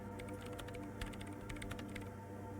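Rapid typing on a machine keyboard in Disco Elysium, a quiet clatter of many quick keystrokes in uneven bursts over a low steady hum, with no talk.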